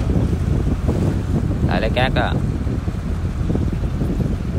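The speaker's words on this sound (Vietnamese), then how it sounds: "Ở dưới bến có một chiếc ghe mới đang chạy lại" A wooden Vietnamese sand-hauling boat approaches a riverside landing, its engine rumbling under heavy wind buffeting on the microphone while people talk nearby.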